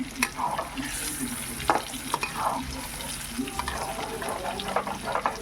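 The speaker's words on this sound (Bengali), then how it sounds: "চিকেনের খুব সুন্দর করে আমি নাড়িয়ে চাড়িয়ে নিই" Marinated chicken for a restaurant-style chicken chap is stirred in a pan, giving steady scraping and stirring noises over a soft sizzle, with a few sharper knocks, close and continuous and without talk.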